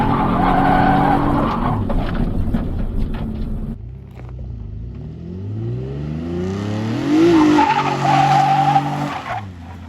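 A car drifting on a no-e-brake clutch-kick initiation during a beginner drift lesson, running on worn-out tires: the engine revs hard, then the tires break loose into a loud, sustained squeal that rises and swells near the end.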